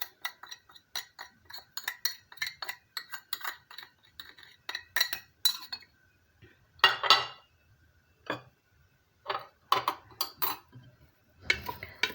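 A spoon stirs chicken breast and onion with spices in a pan, giving quick clinking, scraping metallic taps in uneven bursts with short pauses, close and clear, with no voice.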